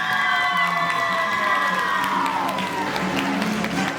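Studio audience at a quiz show cheering and applauding for a contestant, a dense burst of claps, whoops and shouts with children's voices mixed in, loud and sustained.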